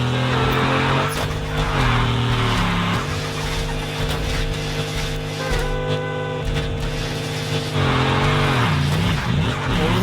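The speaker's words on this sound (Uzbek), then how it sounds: "Bu driftdan to'xtamas ekan to'g'risi." A car drifting in a parking lot, its engine roaring loud and close while the tyres squeal and skid continuously, pitch bending as it slides and sweeps around.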